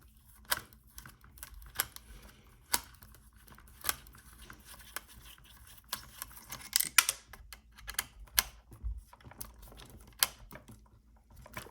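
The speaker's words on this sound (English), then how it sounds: "Let me just loosen this screw." A screwdriver works loose a tight screw on a homemade robot, giving irregular small clicks, ticks and scraping taps, close and fairly faint, with no talking.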